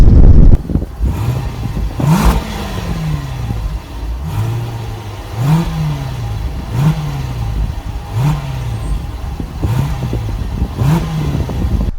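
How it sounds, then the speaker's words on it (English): A deep supercharged V8 exhaust on a 2018 Range Rover Supercharged SUV rumbles at idle, then is revved sharply about seven times in a steady rhythm, each blip rising and falling back, loud and close, with no talking. "Let's take a little bit of a listen to the exhaust."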